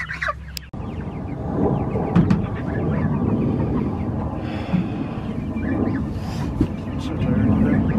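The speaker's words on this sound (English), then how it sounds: "Chickens." Chickens calling and clucking nearby, with scattered bird sounds over wind noise on the microphone.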